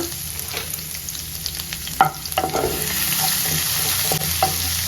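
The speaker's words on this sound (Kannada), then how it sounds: "ಬೆಳ್ಳುಳ್ಳಿ, ಹಾಗೂ ಒಂಚೂರು ಕರಿಬೇವು ಹಾಕಿ ಚೆನ್ನಾಗಿ ಫ್ರೈ ಮಾಡ್ಕೊಳ್ಳೋಣ." Ginger, garlic and curry leaves fry in hot oil in a pan, a steady close sizzle with scattered spatters and a few stirring scrapes, no talk.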